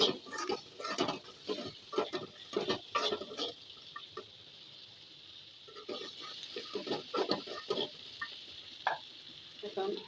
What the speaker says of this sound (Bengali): এখন চিংড়ি মাছগুলো দিয়ে দিচ্ছি। একটু নেড়ে চেড়ে ভেজে নেব।